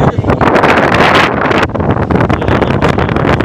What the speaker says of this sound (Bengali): বারান্দায় এত হাওয়া দিচ্ছে, চোখ জুড়িয়ে যাচ্ছে